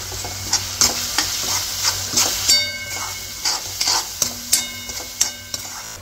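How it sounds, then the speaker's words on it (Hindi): Spices roasting in a pan with coriander powder, red chili powder and salt: a steady sizzle broken by regular scraping stirs, with a faint tonal background hum and no talking. "मसाले डालने के बाद थोड़ा भून लिया हमने"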